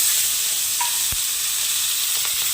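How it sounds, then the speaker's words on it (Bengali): Garlic and green chilies fry in oil in a wok with a steady, even sizzle throughout, plus a faint clink of a utensil near the middle. "এইভাবে লাল করে রসুনটা ভেজে নেবেন আর লঙ্কাটাও লাল করে ভেজে ভেজে নেবেন"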